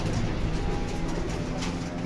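Soft, repeated cooing of pigeons in a racing pigeon loft, moderately close against a steady background hum, with no talk.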